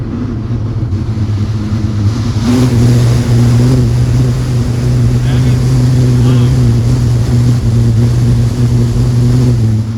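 Steady, loud broadband rush of wind over a Toyota RAV4 Vanguard fitted with a roof rack, sunroof open, with a low droning hum underneath that holds constant throughout, heard from inside the cabin with no talking.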